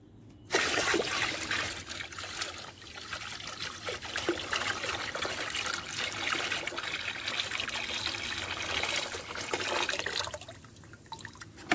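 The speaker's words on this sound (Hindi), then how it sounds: "ये जो पानी है ये अब हम इसमें पूरा डाल देते हैं" Plain water pours steadily into a 20 to 25 litre bucket while a mustard-cake and vermicompost organic liquid fertilizer is made. The splashing gush is continuous and close for about ten seconds, then stops, with no talking.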